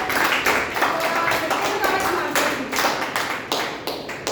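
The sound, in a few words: audience applause at Toastmasters meeting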